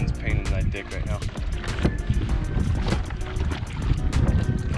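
Wind gusts buffet the microphone on a kayak out at sea during a sailfish fight, a steady rough roar under a man's speech.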